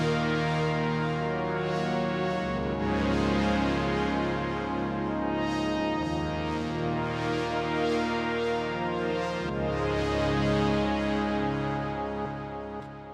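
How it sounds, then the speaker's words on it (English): A classic 80s-style sawtooth synth pad through a 24 dB per octave filter plays sustained chords that shift every few seconds, warm and steady with no voice over it. "did kind of a classic saw pad sound with a nice 24 decibel per octave filter"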